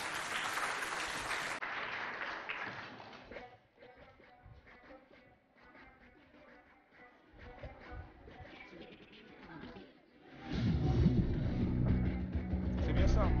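An audience applauding pupils of the Al-Barka evangelical school in Mao after their dance and song, the clapping sitting under loud amplified talk and background noise, swelling into a louder burst near the end.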